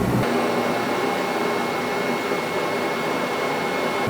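A torch flame preheating a golf putter head before welding roars as a steady, close, broadband rushing hiss without a break.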